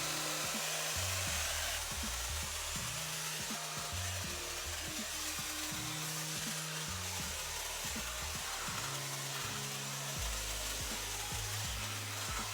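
A hair dryer fitted with a diffuser blows steadily while drying curly hair, a continuous close whir with rhythmic low bumps and shifts as it is moved and cupped against the head.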